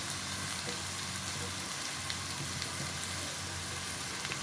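Onions fry with sausage in a pan, giving a steady, soft, close sizzle and crackle throughout, faint overall with occasional light pops.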